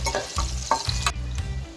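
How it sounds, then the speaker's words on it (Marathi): Hot oil sizzles and crackles in a pan as a spice tempering fries for brinjal curry, with a few sharp bursts of spattering as it is stirred. "ही फोडणी छान परतून घ्यायची आहे."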